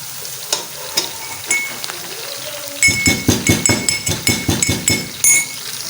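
Onions for chicken pulao sizzle steadily as they brown in a pan, while a metal spoon stirs and scrapes in quick, regular clinks that grow busier halfway through, close up with no talking.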